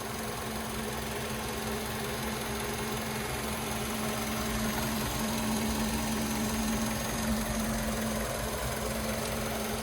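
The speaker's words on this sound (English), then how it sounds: "nice and smooth running engine" A 2007 Mazda 3S manual engine idles steadily with the hood open, a smooth, even hum with no surges or gaps, heard close and alone throughout.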